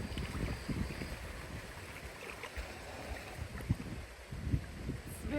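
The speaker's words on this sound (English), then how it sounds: "It's very windy today." Strong wind blowing outdoors in a village, a steady broadband rushing and buffeting against the microphone with occasional low gusty thumps, continuous throughout.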